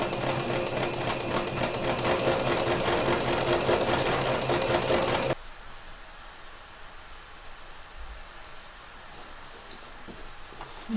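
Sewing machine stitching across a fabric height chart, a rapid close mechanical whir that runs steadily for about five seconds, then stops abruptly and leaves quiet room sound.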